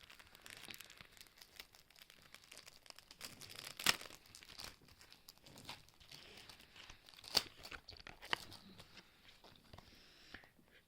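A trading card pack wrapper is crinkled and torn open close up, with several sharp crackles standing out against a steady rustling of plastic foil.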